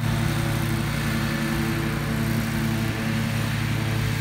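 A Toro TimeCutter zero-turn mower running while mowing an older hillside cemetery, a steady loud engine drone with a constant low hum and no pauses.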